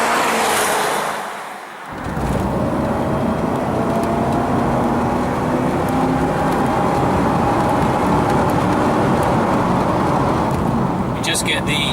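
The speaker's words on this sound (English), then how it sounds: "Just get the supercharger whine in the background as a reminder of the potential horsepower and performance on tap" A 1999 Jaguar XKR with a supercharged engine drives at speed, a steady loud engine and road roar with a faint rising whine running underneath, briefly dipping near the start before holding constant throughout.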